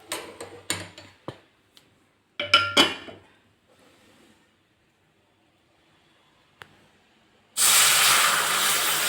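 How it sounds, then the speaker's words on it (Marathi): Milk poured into a hot pan of semolina sheera makes a sudden loud, steady hiss and sizzle that starts late and holds to the end, after earlier clinks and scrapes of utensils. "आणि आता आहे ना दूध टाकून देते."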